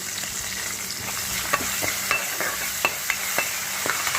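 Curry leaves hit hot oil and sizzle hard without a break, with scattered stirring scrapes and soft clicks from a spoon against the pan.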